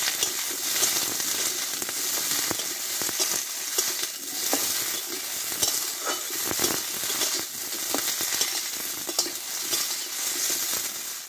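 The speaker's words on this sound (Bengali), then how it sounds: "এইবার এই তেলে দেব কেটে ধুয়ে রাখা ঢেঁড়সগুলো, দিয়ে দেব, দিয়ে একটু কষিয়ে নেব আগে" Cut, washed okra fries in a little oil, a bright crackling sizzle close up, with repeated stirring scrapes and light spatula knocks against the pan throughout.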